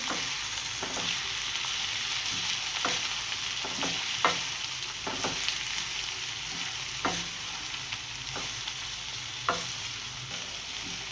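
Chopped cabbage is stirred into carrots and peas frying in a pan for macaroni, a steady soft sizzle broken by repeated spatula scrapes and clinks at irregular intervals.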